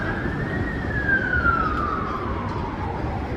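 A single siren sweeps slowly downward at mid distance up a city block in Vancouver's Downtown Eastside, over a steady rumble of street noise.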